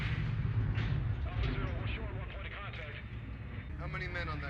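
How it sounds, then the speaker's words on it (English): A surface-to-air missile effect from the film Dune, a loud continuous rumbling roar with dense low-end booms that holds steady for several seconds, joined by a voice talking over it. "Insert surface-to-air missile."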